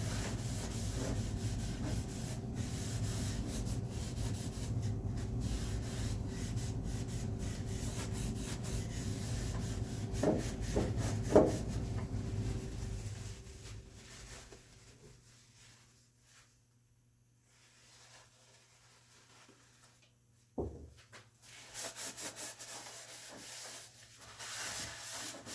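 A paper towel rubs oil finish onto a walnut spice rack, a soft continuous swishing scrub up close that fades into near silence, followed by a single light knock and a brief return of faint rubbing.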